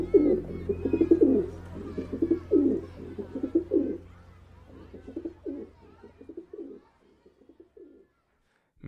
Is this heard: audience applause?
no